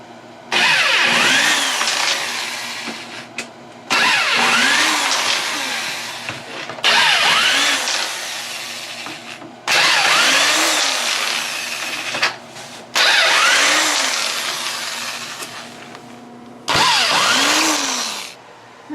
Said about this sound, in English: next I'll be taking the screws out along the bottom here